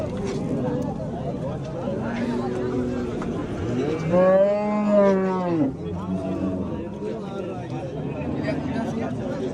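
A loud, drawn-out cow moo rises over a busy crowd at the Kattakurgan livestock market, with people talking and chattering all around.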